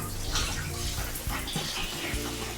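Shower water runs steadily in a home bathroom, a loud, continuous hiss and splash with small shifts as the spray hits the body and floor, no talk over it.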